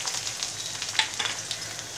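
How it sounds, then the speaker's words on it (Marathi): Garlic, curry leaves and onion frying in hot oil in a pan, a close, steady crackling sizzle with small pops scattered through it. "तेल तापलेलं आहे, तेलामध्ये आपण लसूण टाकूया."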